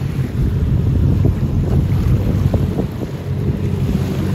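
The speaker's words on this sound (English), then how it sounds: "Definitely shooting a lot of water out of the front and sides." A damaged jet boat runs loud and steady on the water, spraying out its front and sides, with heavy rushing water and wind buffeting the microphone throughout, no voices over it.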